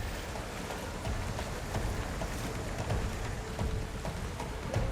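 Heavy rain pours steadily, swelling in gusty bursts with a dense low rumble of drops hitting surfaces nearby.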